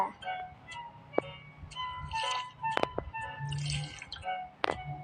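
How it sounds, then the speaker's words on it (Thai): Miso soup broth ladled into a bowl in a kitchen, with light drips, splashes and clinks of utensil on dish in an irregular rhythm, fairly quiet. "คนตักน้ำซุปใส่ค่ะ"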